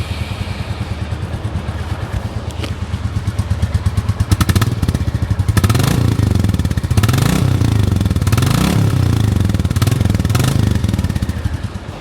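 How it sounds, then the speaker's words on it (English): The 2023 Royal Enfield Bullet 350 with its J Series engine idles and revs, a loud close thumping single-cylinder exhaust beat that rises in several throttle blips over a steady rumbling pulse. "it's running a new engine, the J Series engine, which also means it has a new exhaust note"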